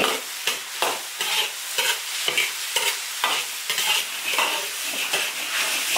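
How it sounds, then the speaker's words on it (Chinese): Bullfrog pieces sizzling in a hot iron wok with chopped chili, ginger and garlic, stirred in quick repeated scrapes that cut through a loud, steady frying hiss. "然后放入牛蛙。"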